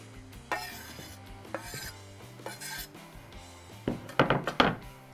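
Ground beef (80-20) and half an onion drop into a pan with a few soft thunks and scraping rubs, followed by a cluster of sharper clatters and knocks near the end.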